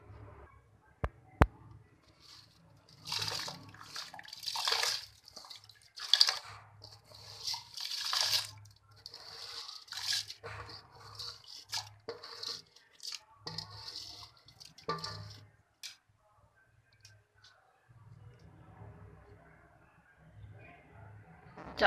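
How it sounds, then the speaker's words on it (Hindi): Rice, 500 grams for kheer, is poured into a pot of boiling water, with bursts of splashing, bubbling and crunchy pouring rising and fading over about twenty seconds, interspersed with quieter gaps. "जब पानी बॉयल होना शुरू हो जाए तो इसमें चावल डाल दूंगी।"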